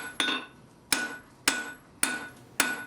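Blacksmith's hammer striking hot metal squarely on the centre of an anvil, five sharp ringing blows at a steady rhythm about half a second apart, each with a short metallic decay, close and clear with no talking.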